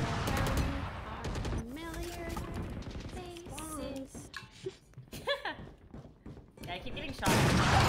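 Gunfire in a farm-map shooter video game comes in rapid bursts and scattered single shots, loud and crackling, mixed with a young-sounding voice talking over the action.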